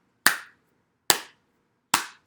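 Three sharp hand claps spaced evenly about a second apart, loud and close, with silence between them, at the start of a children's bird-themed story time hello song.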